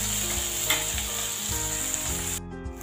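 Chopped tomato, onion, ginger and garlic sizzle in a pan for green moong dal, a continuous crackle with soft stirring scrapes and a low hum, ending abruptly.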